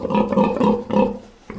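A sow kept for breeding piglets grunts loudly and close by, giving a run of deep rumbling grunts in quick succession, then a short pause and one more grunt.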